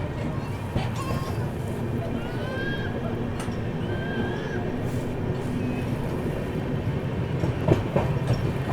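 The Purushottam Express pulls out of Koderma Junction with a continuous low rumble and rattle of wagons, faint high squeals and a few brief clanks, steady and fairly loud throughout.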